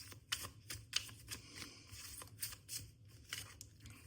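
Tarot cards are shuffled and drawn up close in a quiet room, with quick papery riffles, flicks and taps in an irregular rhythm. The sound is faint, and there is no talking.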